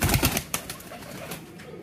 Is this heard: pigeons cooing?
yes